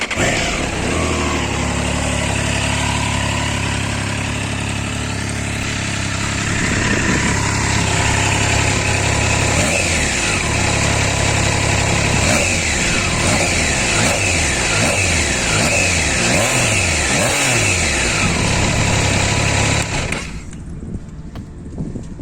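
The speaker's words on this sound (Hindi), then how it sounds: "बहुत अच्छी साउंड करती है ये motorcycle. For a 3 cylinder this is absolutely bonkers" A Triumph Trident 660 three-cylinder motorcycle engine idles, then revs repeatedly with rising and falling throttle blips, loud and close, before cutting off near the end.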